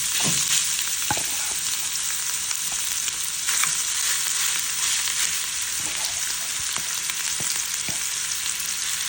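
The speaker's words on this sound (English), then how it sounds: "here I have a pot with oil which I already greased, and I'm gonna add my meat in" Chopped beef sizzles in hot oil in a greased pot, a loud, steady hiss running throughout, with occasional scrapes and taps from stirring, no voices.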